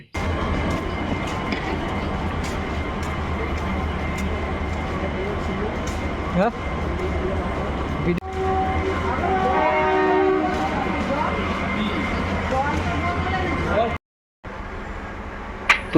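A railway station in Kolkata carries a steady low rumble of trains and platform bustle, with a sustained horn-like tone partway through, sharp clanks, and a brief dropout near the end.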